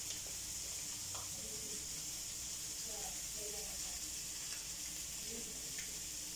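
Ham sizzles and fries on a griddle for burgers as a soft, continuous hiss. Quiet talk and faint kitchen clatter sit beneath it.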